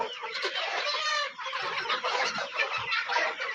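Roosters and hens of a farm breed cluck busily close at hand, overlapping bursts of short calls and a higher crowing-like note early on, with no talking.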